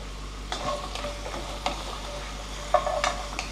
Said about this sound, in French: Je vais rajouter mes artichauts que j'ai égouttés